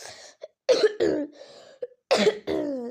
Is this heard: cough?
yes